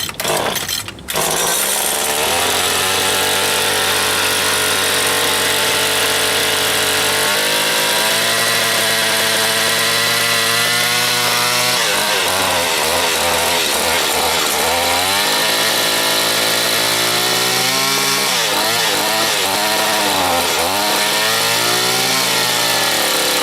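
A Stihl FS80 trimmer engine runs after a carburetor rebuild, a loud buzzing two-stroke drone that revs up and down unevenly, alone and close throughout.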